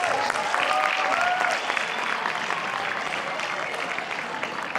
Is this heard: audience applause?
yes